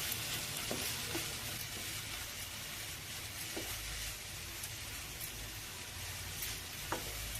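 Grated carrot fries on a low flame for halwa, a faint but steady sizzle with occasional light scrapes and taps of stirring.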